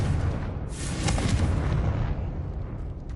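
A Confringo fire spell in Hogwarts Legacy, cast at a witch's sarcophagus in a tomb, detonates in one loud, broad booming blast that rumbles on and fades out slowly.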